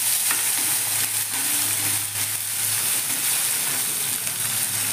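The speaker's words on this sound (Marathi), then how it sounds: "हे वाटलेलं मिरची आणि आलं आहे, हेही घालून चांगलं भाजून घ्यायचं." Ground green chili and ginger paste fries in hot oil in a pan, giving a loud, steady sizzle with faint scraping as it is stirred, no talking.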